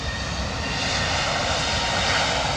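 An All Nippon Airways Boeing 777 taxiing at Heathrow gives a steady, fairly loud jet engine drone with a high whine, continuous and unbroken, with no voices.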